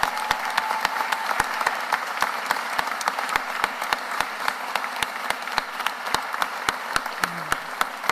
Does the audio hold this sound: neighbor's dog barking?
no